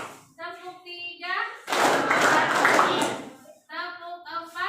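A class of 11 MIPA 3 students claps together in a dense, loud burst lasting about two seconds. Voices speak before and after it.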